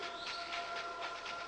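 A train carriage rolls on rails, a steady close rumbling hiss with a faint rhythmic pulse and a sustained metallic hum running through it, alone without voices.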